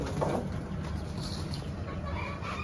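Farm chickens cluck in a room next door, beside a quail-rearing area, a steady and fairly close clucking over a constant background hum, with no talking.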